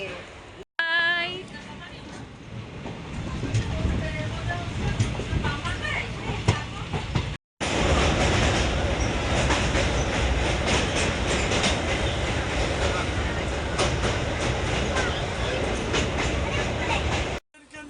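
A train departing Bardhaman station rolls along steadily with a continuous rumbling clatter, loud and close, interrupted by a brief cut near the start.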